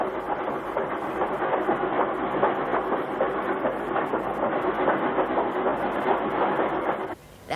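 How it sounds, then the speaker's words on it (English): A train rumbling steadily with a rhythmic clatter of wheels on rails, loud and continuous for about seven seconds before cutting off suddenly, set in late nineteenth-century rural Canada. "the train should be arriving at the station about now"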